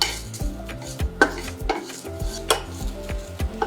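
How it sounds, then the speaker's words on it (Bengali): Dried chillies, coriander and fennel seeds are stir-fried over low heat, a spatula scraping and knocking against the pan in an irregular rhythm above a faint sizzle, close up. "একদম লো আছে এগুলোকে নেড়ে ভেজে নিতে হবে।"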